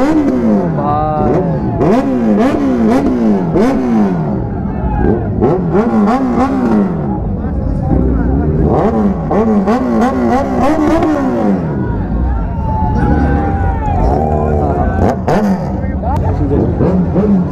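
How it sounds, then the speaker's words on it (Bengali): Superbikes at a bike meet revving and riding out one after another, loud rising and falling engine whines near and passing, with crowd chatter underneath. "এবার সব সুপার বাইক বেরিয়ে চলে যাবে"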